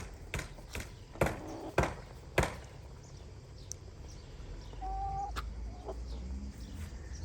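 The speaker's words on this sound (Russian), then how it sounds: "Бройлеры, курочки." Broiler chickens clucking and squawking around a farmyard, with a few sharp knocks early on and a steady low background hum.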